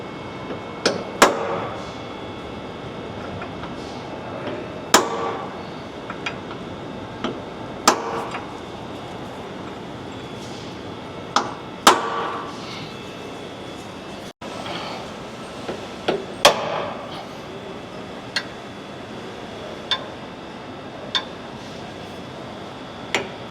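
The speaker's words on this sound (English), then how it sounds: "I'll transfer punch my 4 3/8 holes here" A hammer repeatedly strikes a transfer punch against a hardened Ford Super Duty truck frame C-channel, giving sharp metallic clinks spaced a second or more apart, moderately close over a quiet workshop background.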